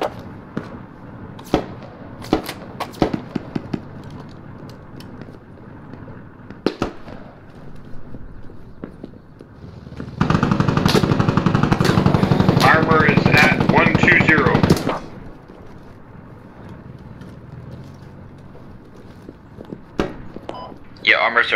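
Bursts of gunfire from the military shooter game Squad, played on the Narva map: sharp, scattered shots early on, then a dense, loud stretch of sustained automatic fire lasting several seconds, with voices talking over parts of it.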